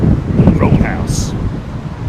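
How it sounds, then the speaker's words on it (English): Strong storm wind at Heathrow Airport during Storm Nelson: steady, loud blustery roar with rumbling low-end buffeting against the microphone, and a brief voice near the start. "oh, it's really blustery now, man."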